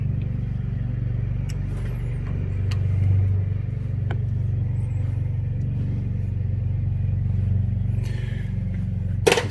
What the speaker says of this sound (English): Always somebody cutting the grass